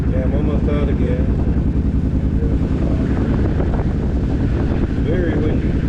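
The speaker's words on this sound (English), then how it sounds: "Very windy." Strong wind roars and buffets steadily around a rider on a Suzuki motorcycle, loud and close for the whole stretch, with engine drone beneath the gusting rush.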